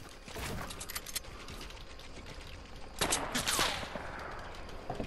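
Hunting rifle gunfire in the Fortnite video game, with two moderately loud bursts of sharp cracks, one near the start and one a few seconds later, over a steady low background.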